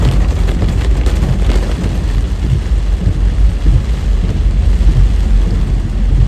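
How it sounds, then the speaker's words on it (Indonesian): Steady heavy rain in a city street in Makassar, with a constant wash of noise and low rumbling throughout, loud and close, with no voices. "Cuaca masih hujan."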